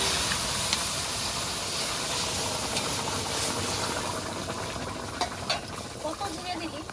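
A curry goes into hot tempered spices in a pan and sizzles hard, a continuous frying hiss with stirring scrapes. Light clicks and clatter come through toward the end.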